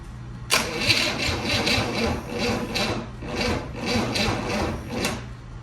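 A Chevy 230 inline-six engine, unrun for 35 years, cranks over with rapid, rhythmic chugging pulses, straining repeatedly as it tries to catch but never fully starts.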